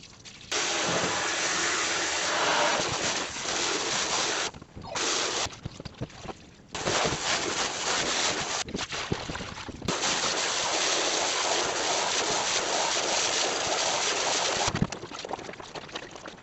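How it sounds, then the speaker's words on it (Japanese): Black-dyed Levi's vintage jeans being rinsed under water in a basin. Loud, continuous gushing and splashing, with a few short pauses as the flow stops and restarts. "ここからはすすぎをしていきます。"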